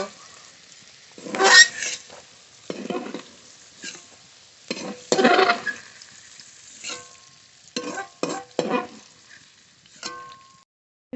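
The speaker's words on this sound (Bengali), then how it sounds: "ভালো করে ভেজে নেব মটরশুঁটি খুব ভালো করে ভেজে নিয়েছি" Green peas frying in a pan as they are stirred, with bursts of sizzling and scraping that come and go in irregular rhythm, close and moderately loud, with quiet pauses between strokes.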